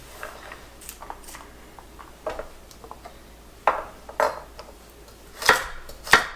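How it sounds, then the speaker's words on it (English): Carrots are rough-chopped with a knife on a board, a scatter of sharp, irregular chops that come louder and closer together toward the end, with quiet pauses between and no talking. "So I'm just going to be cautious again as I cut them, and we're just going to do a rough chop on these."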